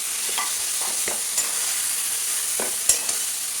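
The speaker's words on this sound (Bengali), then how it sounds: "এবার একসাথে দিয়ে মশলার সাথে খুব ভালো করে কষে নেব।" Mashed potato and lotte fish sautéed with spices in a pan, a soft continuous sizzle with a few light scraping stirs, close and moderate in level, no voices.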